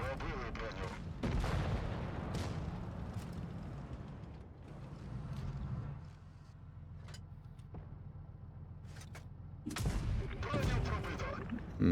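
Deep tank cannon booms in World of Tanks Blitz, from a Soviet ST-62 Version 2 medium tank, with rumbling tails roll out over engine drone, and a few sharper blasts follow near the end.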